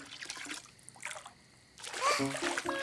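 Bath water sloshes and splashes in short bursts, with brief voices and tones mixed in around the splashing.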